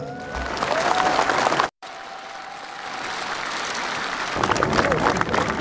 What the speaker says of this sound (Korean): 여러분 박수로 한번 격려해 주시기 바랍니다